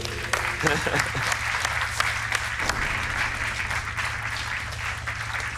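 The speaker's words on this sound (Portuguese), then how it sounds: "um aplauso para o João" A TV quiz show studio audience applauds a contestant, bright dense clapping throughout, with a host's voice briefly heard near the start over the applause.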